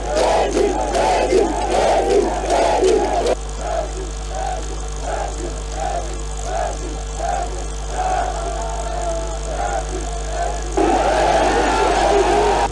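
A jubilant crowd greets the President of the Republic on foot in Madiana prefecture, loud continuous cheering and chanting close by, with a vehicle engine droning under the voices and a quieter stretch mid-way before the roar swells again.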